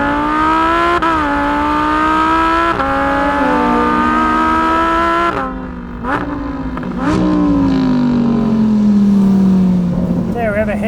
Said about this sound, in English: Great V10 behind you here. Oh. What a sound, listen to this thing.